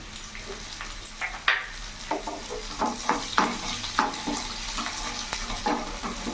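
Dried chili, chopped garlic and green chili fry in oil for garlic chicken, giving a loud close sizzle with sharp intermittent stirring clatters and a faint watery background hiss.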